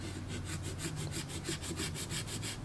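Gummy stone rubbed along the steel edge of a ski or snowboard to clear rust, a quick run of rhythmic scraping strokes, close and steady, with no talk.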